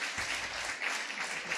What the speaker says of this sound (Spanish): Pido un fuertísimo aplauso para mí.